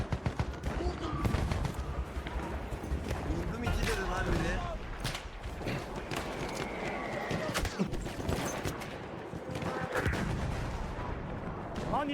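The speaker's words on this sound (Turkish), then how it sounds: "Bomba atıyorum. Bizim adam attı." Booming explosions and gunfire in a combat video game keep sounding through a noisy, busy mix, with a voice talking over the action.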